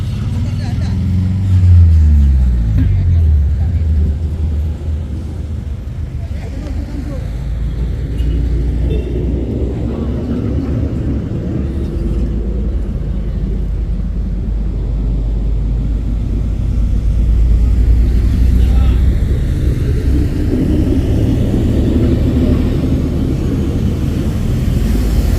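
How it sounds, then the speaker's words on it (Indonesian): A heavily loaded trailer truck turns its tractor head while maneuvering, giving a deep, continuous engine rumble that is close and loud and swells near the start and again toward the end. "Oh, memutar dulu trailer lebat tuh."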